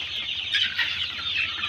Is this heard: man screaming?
no